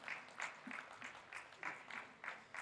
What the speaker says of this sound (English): Please, can I get your applause for our speaker?